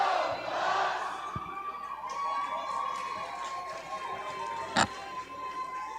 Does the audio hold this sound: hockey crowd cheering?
yes